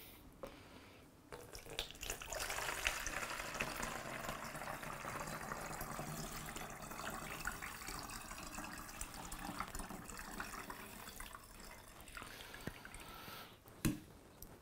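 Water runs steadily from a tap into a graduated jug, measured out to 650 ml for mixing Kodak Xtol black-and-white film developer, a continuous close splashing rush that stops abruptly near the end.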